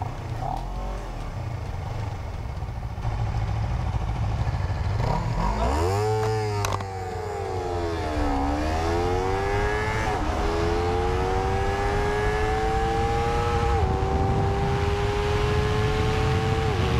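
Honda CBR250RR SP sport motorcycle accelerating hard on a 300 m time attack run, its engine climbing through the gears in long rising sweeps with quick shift breaks, loud and steady throughout.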